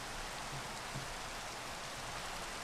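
Rain falls steadily in the video game Minecraft, an even, faint hiss of drops with no other sounds over it.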